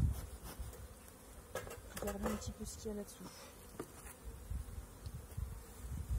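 A dense honeybee buzz from a hive in late winter hums steadily under a person talking close by, with brief handling noises.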